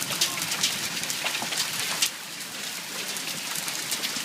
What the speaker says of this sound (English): See the ice falling from the sky? That's called hail.